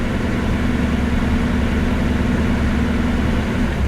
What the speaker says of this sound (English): rev the engine up a little bit